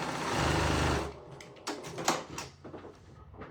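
A home sewing machine runs a quarter-inch seam through quilt fabric in one steady, close burst of about a second, then stops, leaving quieter handling and fabric rustling.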